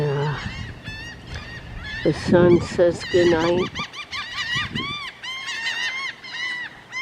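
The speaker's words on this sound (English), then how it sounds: "A bunch of real seagulls fly overhead." A flock of seagulls flies overhead at sunset, giving repeated loud squawking calls in quick, uneven bursts, while a voice speaks briefly beneath them.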